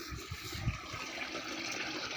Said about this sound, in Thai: โอ้น้ำเสียงน้ำไหลครับ ได้ยินเสียงน้ำไหมครับ